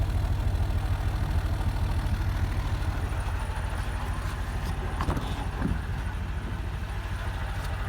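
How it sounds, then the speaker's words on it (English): A lifted 2010 Toyota Tundra SR5 TRD 4x4 on 37-inch tires idles with a mellow, steady low exhaust burble, close and continuous, with a couple of faint clicks partway through. "See, it's pretty mellow exhaust."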